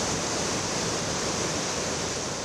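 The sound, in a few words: rushing floodwater of the Piave river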